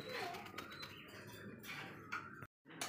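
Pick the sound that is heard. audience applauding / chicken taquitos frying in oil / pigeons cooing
pigeons cooing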